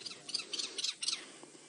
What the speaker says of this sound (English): a Jacobin cuckoo that flew over the top of us